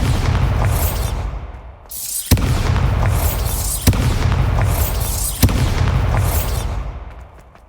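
Bombarda spell explosions in Hogwarts Legacy: four loud, sharp booms about one and a half seconds apart, each followed by a rumbling roar that fades, standing alone without talk.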